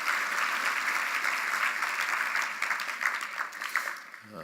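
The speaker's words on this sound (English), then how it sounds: "You ought to give yourselves a big round of applause." Steady audience applause at a public speech, a dense wash of many hands clapping that holds for several seconds before thinning out toward the end.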